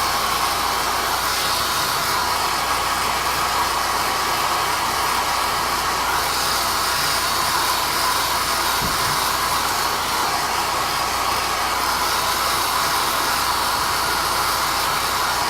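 A hair dryer or heat tool blows steadily to dry ink and old, semi-dry texture paste on a paper page, a loud continuous whooshing hum held for the whole stretch, with no talking.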